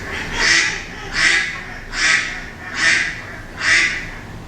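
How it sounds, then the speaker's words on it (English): A duck quacks five times in an even, regular rhythm, each call loud and nasal and heard close with no talking over it. ""Quack, quack," said the duck."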